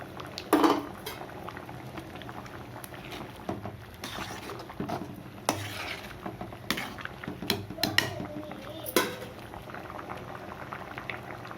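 A pot of pea kurma curry bubbles steadily at a low simmer, with soft popping and occasional clinks of a spoon or metal pot throughout.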